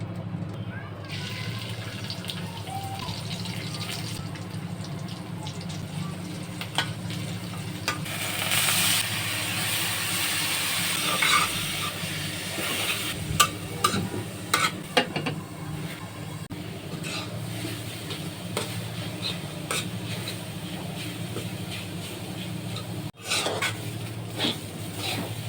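Cumin seeds crackle in hot oil in a pan for a vegetable stir-fry, a steady sizzle carrying on throughout with occasional clatters of utensils and pans and some faint kitchen noise in the background.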